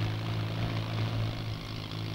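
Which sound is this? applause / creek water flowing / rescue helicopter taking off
rescue helicopter taking off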